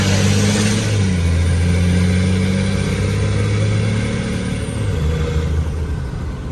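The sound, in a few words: 12v Cummins swapped C30 truck engine with open downpipe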